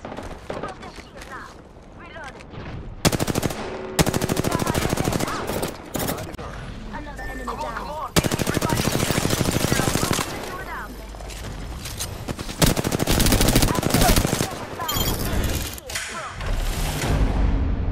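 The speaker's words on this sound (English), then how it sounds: "Listen up, I'm getting shot at." Gunfire rattles through an Apex Legends firefight in loud, repeated bursts and sustained volleys, separated by short lulls. Occasional in-game voice lines come through between the shots.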